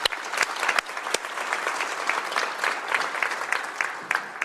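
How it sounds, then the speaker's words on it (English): An audience applauds the staff of the Washington Department of Veterans Affairs at an event, a dense, steady wash of clapping from many hands that holds evenly for several seconds, with a few sharper nearby claps standing out. "Can we give them a round of applause for all the hard work?"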